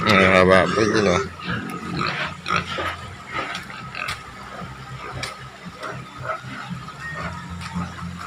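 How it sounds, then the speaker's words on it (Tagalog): Pigs kept at a rural house in the Bicol countryside grunt and squeal, a loud burst of squealing at first, then scattered nearby grunts with a person talking over them. "Mga baboy yun, oh."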